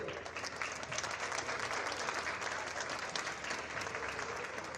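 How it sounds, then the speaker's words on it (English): A crowd applauds steadily at a girls' varsity basketball game, a dense wash of clapping that stays even and continuous, heard from a moderate distance. "please give us a round of applause and celebrate these two"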